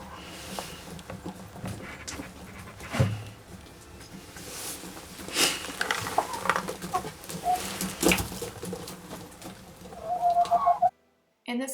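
Chickens in a coop cluck in scattered bursts, close and moderately loud, amid scraping and rustling as waste mulch is cleared from the floor, ending abruptly.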